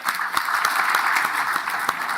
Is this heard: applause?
yes